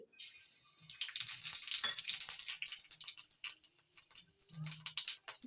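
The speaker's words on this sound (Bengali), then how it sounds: "তেল গরম হয়ে গেছে ওই তেলের মধ্যেই দিয়ে দিচ্ছি হাফ চামচ জিরে" Half a spoon of cumin seeds hits hot oil and crackles in a busy, popping sizzle with fine ticking bursts, loud and close, settling into a steadier hiss toward the end.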